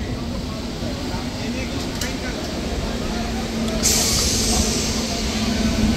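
Continuous rolling rumble from inside a Digha special general class coach leaving Bagnan station, steady and loud, with a hissing burst partway through.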